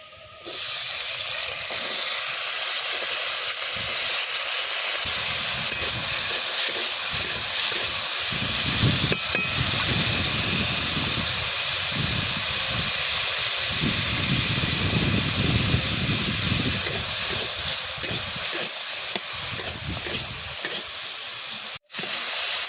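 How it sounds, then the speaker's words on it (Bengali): Potatoes with turmeric fry in a pan at a village cooking fire, giving a loud continuous sizzle and hiss with bursts of stirring throughout, ending in a brief pause. "এবার হলুদ দিয়ে আলুগুলো ভেজে নিচ্ছি।"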